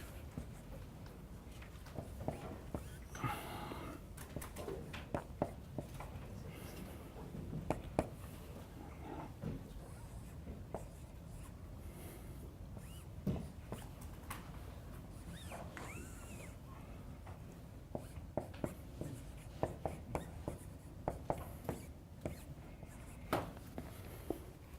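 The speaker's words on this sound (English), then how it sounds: "let me write down what's here" A problem is written out by hand during a math lecture, with scattered scratchy taps and strokes over a quiet room.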